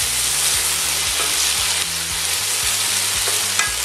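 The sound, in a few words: onions frying and being stirred in a pan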